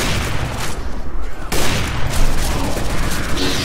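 Rapid bursts of gunfire from Left 4 Dead 2 crackle loudly and continuously, dense overlapping shots with a brief lull near the middle before the firing resumes at full intensity.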